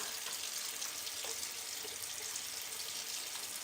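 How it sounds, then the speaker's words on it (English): A bathroom tap runs steadily into the sink while someone washes their face, a continuous close hiss of flowing water with faint splashes, no speech. "quickly just wash my face and get that product off of it"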